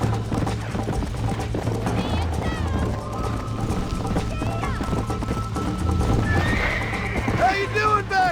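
A horse whinnies and gallops in the Western video game Red Dead Redemption, rapid hoofbeats driving beneath music and game effects, with sharp neighs rising over the steady thunder of the run.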